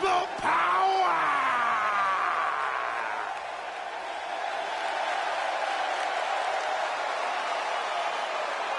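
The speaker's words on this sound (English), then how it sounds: "Clap for your longest reigning tag champs and feel the power!" Arena crowd in the wrestling video game WWE 2K18 roars during the New Day's ring entrance; a sharp yell opens, then sustained cheering and applause hold steady, dipping slightly midway before swelling again.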